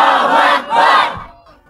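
A large crowd at an Islamic religious gathering shouts Allahu Akbar in reply to a takbir call, making two loud massed roars of voices, the second one fading out quickly.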